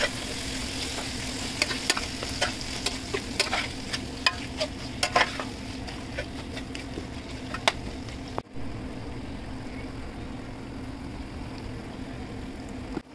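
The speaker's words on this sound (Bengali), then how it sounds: "মেয়োনিজটা দেওয়ার পরে আমি আরেকটু মশলাটা কষাই দিছি" Spice paste with mayonnaise being stir-fried for shrimp-ball pasta, a soft sizzle broken by frequent sharp spoon scrapes and taps against the pan, then a quieter steady hiss after a sudden cut.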